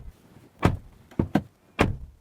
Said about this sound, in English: And our door slam,